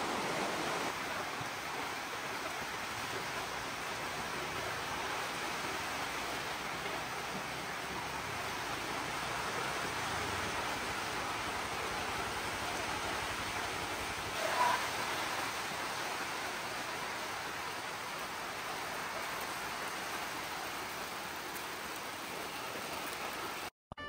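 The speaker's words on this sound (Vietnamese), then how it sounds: "Mưa lớn dữ luôn á." Heavy rain pouring down steadily in Tây Giang, a dense, continuous roar of falling water that holds at a constant level throughout.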